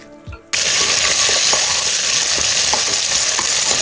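Sambar onions and dried chillies drop into hot oil in a pan after a brief clatter, bursting into a loud, dense, continuous sizzle with faint crackles as they fry.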